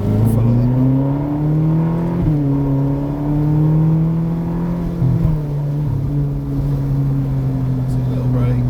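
Ferrari California pulling away on track at Castle Combe Circuit: a steady, loud engine drone with strong, smoothly shifting harmonics and brief dips in pitch, heard from inside the car.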